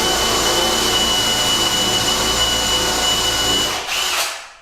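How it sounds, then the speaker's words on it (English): A power drill with a freshly sharpened 13mm spade bit bores into a hardwood door for a rim lock, making a steady, loud, close whine that cuts off abruptly near the end. "13mm spade bit here, which I've just sharpened, so it should cut through just nicely"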